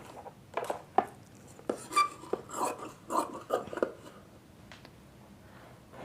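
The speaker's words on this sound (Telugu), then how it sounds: "ఇలా క్లాత్కి క్రాస్గా ఇలా ముక్కలు అనేవి మనం కటింగ్ చేసేసుకున్నాం." Scissors cut blouse fabric into one-inch strips, making a run of close, crisp snips and rustles in an uneven rhythm that fades into quiet near the end.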